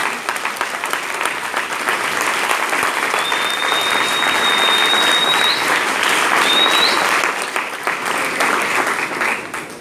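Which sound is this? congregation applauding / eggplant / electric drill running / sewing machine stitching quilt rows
congregation applauding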